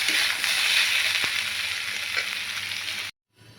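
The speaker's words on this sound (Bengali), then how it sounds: "প্রথমে আদাটা দিয়ে ভাজবো" Ginger fries in oil in a pan for Bengali aloo karela, a dense, even close sizzle with a faint stir or two, cutting off abruptly near the end.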